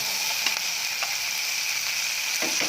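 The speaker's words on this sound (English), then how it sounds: "what we do now is just saute them until really soft" Tomato sizzles in a pan with shrimp paste while sautéing for sambal ulek. The frying hiss is steady and close, with a few soft stirring clicks and no talking.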